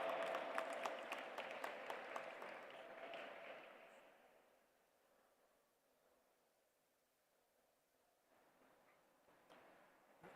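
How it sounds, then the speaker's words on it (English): Audience applause welcoming Shri Narayan Bablaniji at a G20 interfaith summit at the World Peace Dome, a burst of clapping from a large crowd that fades away after about four seconds, leaving quiet room tone. "Please put your hands together and welcome with a big round of applause"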